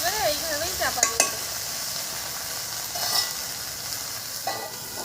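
Spinach steaming and sizzling in a pan after a little water is added, a steady close hiss with a few sharp clinks and stirring scrapes, and a brief voice near the start.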